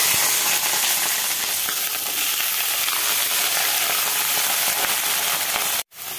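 Chopped mixed vegetables fry in a pan over dried-chilli tempering, giving a loud, continuous hissing sizzle that holds evenly before a brief sudden dropout near the end.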